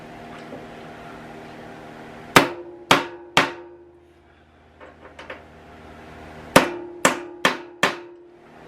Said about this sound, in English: let's start off by just putting some marks in here using these transfer punches